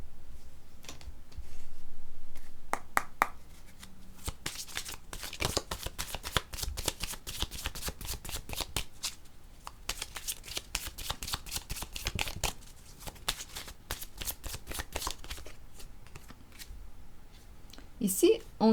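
Cards shuffled for a card reading, close up, with continuous rapid riffling and tapping clicks running through most of the stretch, ending with a few sharper knocks.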